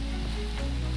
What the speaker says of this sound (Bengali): এবার চাউমিনটা দিচ্ছি, এর মধ্যে পেঁয়াজটা দিয়েছি, দিয়ে এবার একটু নেড়ে চেড়ে নেবো